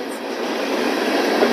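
A freight train with a Central Maine and Quebec locomotive passes close by, giving a loud, steady rumble and rail roar that builds slightly and never lets up, with no voices.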